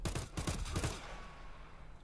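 A rapid burst of automatic gunfire in the shooter game Arena Breakout Infinite, about eight quick shots in the first second, then fading into quiet background, low in level.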